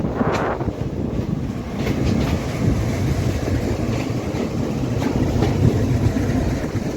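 Coal-carrying train rolling through Mal Tekdi station without stopping, a steady rumbling clatter of wagons with wind buffeting the microphone, heard from on board.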